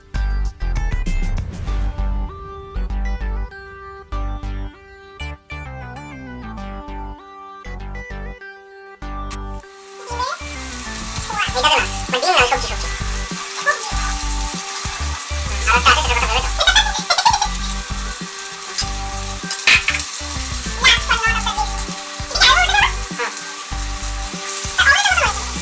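Chicken pieces dipped in egg batter and coated in flour fry in oil in a kadai, a loud continuous sizzle that starts partway through after a quieter stretch and carries on steadily.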